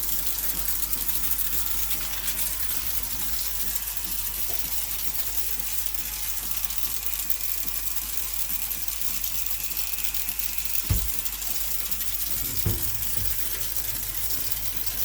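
A grooming sprayer spits thick conditioner while a golden retriever is washed, producing a steady close hiss of spray with a couple of brief low thumps near the end.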